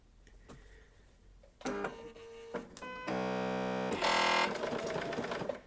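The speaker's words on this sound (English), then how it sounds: "Okay, just like always, we're going to do a locking stitch." A sewing machine stitches a locking stitch in short bursts. Each run whirs a little louder than the last, separated by brief pauses and light mechanical clicks.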